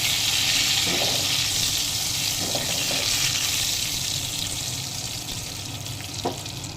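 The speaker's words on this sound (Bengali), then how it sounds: "আর দিয়ে দেবো তেজপাতা আর কালো জিরা। ফোড়নগুলো আমি একটু নাড়াচাড়া করে নেব।" Bay leaf and black cumin tempering frying in oil, a dense continuous sizzle with a few soft utensil knocks as the spices are stirred, heard close with no speech.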